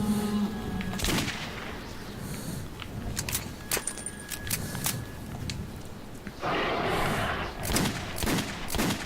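Gunfire in the video game Metro 2033, with several short bursts and single shots scattered over steady background noise, fairly quiet, plus metallic clicks and rattles.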